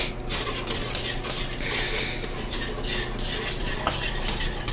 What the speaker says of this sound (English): And give that a good whisking.